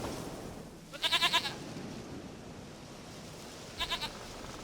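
In The Witcher video game, a goat bleats twice in short quavering bursts against a quiet outdoor ambience, fairly close and otherwise alone.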